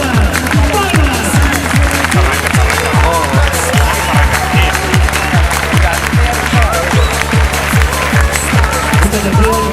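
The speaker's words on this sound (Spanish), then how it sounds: "venga esas palmas, Castellón" A large crowd claps in unison inside a bullring during a Castelló street performance, a steady rhythmic beat of loud, close, repeated palmas running throughout with cheering and crowd noise beneath.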